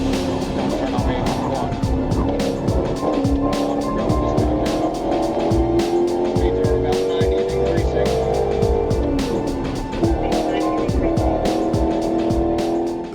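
A car speeding past other traffic on a highway at well over 100 mph with no headlights or taillights, a continuous loud engine roar with tire and wind noise throughout, steady and close.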